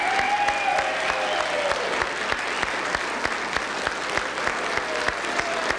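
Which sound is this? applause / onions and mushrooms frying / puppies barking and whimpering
applause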